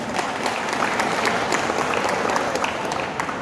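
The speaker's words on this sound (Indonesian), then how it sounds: "tepuk tangan ini." A large crowd of participants claps together at the opening ceremony of a big goldfish contest in Tabanan, Bali, a steady dense wash of applause with no pauses.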